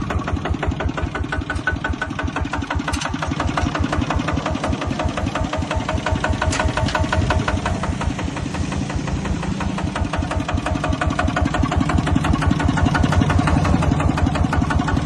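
A diesel tractor engine idles steadily nearby, a fast, even knocking chug that continues unchanged throughout.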